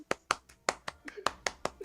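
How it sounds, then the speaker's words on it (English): A single person clapping hands close to the microphone, about ten sharp claps in a quick, slightly uneven rhythm, with faint voice sounds between them. "Clapping for Lore."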